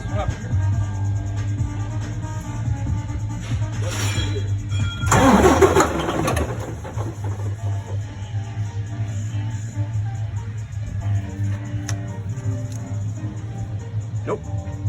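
A car engine cranks briefly and catches, a short burst of starter and firing around the middle, then settles to a steady idle with faint talk nearby.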